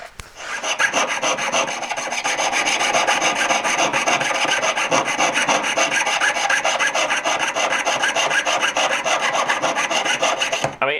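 A hand saw blade cuts through metal in fast, continuous rasping strokes, a harsh scratchy sawing that runs loud and unbroken for about ten seconds before stopping abruptly.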